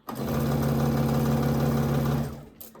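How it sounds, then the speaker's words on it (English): A sewing machine runs steadily for about two seconds, stitching a Halloween ghost quilt with a close, even mechanical whir before it stops; no talking. "We come in here and we sew."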